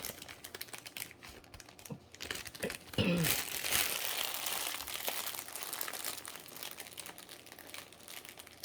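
Candle packaging crinkles and rustles in someone's hands, quiet irregular crackles that swell into a brief louder crumpling burst before settling back to soft handling noises.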